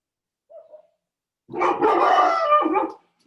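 A dog gives a faint short whine, then a loud, drawn-out bark that rises into a howl for about a second and a half, close by and with no other sound around it.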